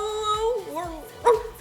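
A dog whimpers and yips in a series of rising and falling whines, ending with a sharp short bark, heard close alongside a person speaking.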